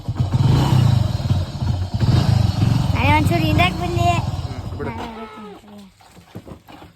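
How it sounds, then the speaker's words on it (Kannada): A motorcycle engine rumbles and revs while people talk loudly over it, with a few animal-like calls in the background. "ನೋಡ್ರಿ ಹೆಂಗ್ ಬೈಕ್ ಹೊಡಿತಾನೆ ನಮ್ಮ ಶಿಷ್ಯ"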